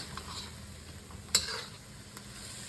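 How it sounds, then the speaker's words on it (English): Garlic and pork frying in a wok as they are stirred around, giving a soft steady sizzle with a few brief metallic scrapes and clicks of the utensil. "then you add the garlic and stir that around"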